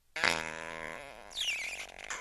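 A cartoonish fart sound effect, a loud, close, buzzing blast lasting about two seconds that wavers in pitch and ends with a squeaky, sputtering tail, heard alone.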